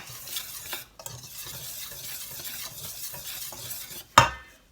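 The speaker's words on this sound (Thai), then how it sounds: "คนให้เข้ากันจ้ะ" A spoon stirs salt into flour batter in a bowl, close scraping and sloshing strokes in an irregular rhythm, ending with a sharper clink of utensil against the bowl.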